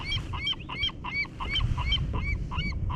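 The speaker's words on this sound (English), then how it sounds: "got some seagulls in the background" Seagulls call repeatedly in the background of a live-bait fishing outing, a steady run of rhythmic squawks and honks over a constant low rumble of wind or water.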